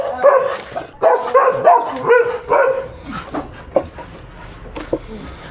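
An Akita barks several times in quick bursts at an anti-rabies vaccination drive, loud and close, with whimpers and yips between barks and faint background voices from the crowd.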